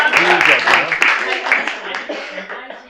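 Applause breaks out among the audience at a historical society and museum open house, scattered claps mixed with chatter and speech, fading slightly toward the end.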